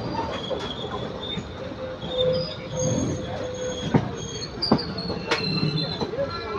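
A train rolls slowly into Palakkad Junction station, wheels squealing and clanking over the rails, with metallic screeches and faint background voices.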